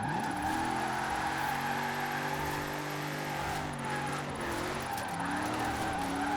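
A truck in Forza Horizon 4 drifting in tandem with other cars, steady engine drone with shifting revs and tyre skid noise, fairly quiet and continuous with occasional pitch sweeps.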